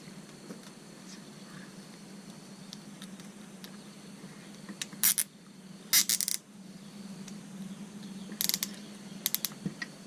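Two large plastic zip ties from a Hydrowave mounting kit ratcheting tight onto a trolling motor mount, giving several short, close clicking bursts over a steady low hum.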